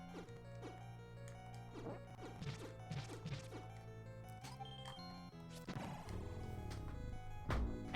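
Bombs exploding in the Zelda BS game, a series of sharp crashes and thwacks over steady game music, with a heavier blast near the end.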